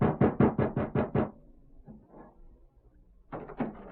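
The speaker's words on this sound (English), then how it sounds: "Ezra, open this door." A fast series of about seven firm knocks on a door, loud and close, followed by a quiet pause, then another short burst of knocking.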